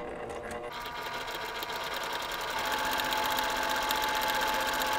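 A sewing machine stitching a quilt block, a steady fast mechanical hum and rapid needle rhythm running close and continuous, building slightly after a brief start.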